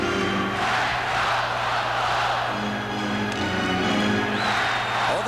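A hockey arena crowd during a Dynamo Moscow versus Buffalo Sabres game roars continuously, a steady dense wash of cheering and shouting with no clear breaks, loud and enveloping throughout.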